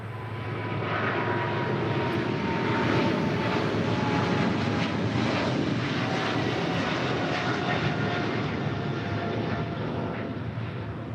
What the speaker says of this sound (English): That is China Southern Cargo Flight 474 departing to Guangzhou on a 777 freighter.